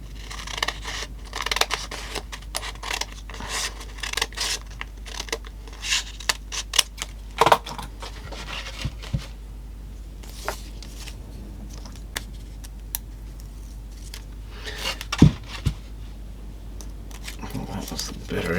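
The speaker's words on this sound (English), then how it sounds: "we'll cut it down to a thinner strip" Scissors snip a vinyl strip for the end panel of a Pioneer SX450 receiver, making a series of close, crisp cuts and rustles of the material, with a couple of sharper clicks.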